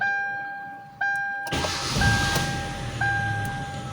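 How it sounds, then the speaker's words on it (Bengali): A car engine is started with a short cranking burst and settles into a steady idle, while repeated chime beeps ring over it, heard close up with no talking. "স্টার্ট বন্ধ করে আবার স্টার্ট দিই"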